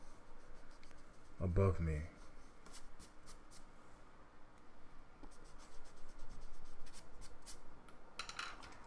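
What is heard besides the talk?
drawing lines with a ruler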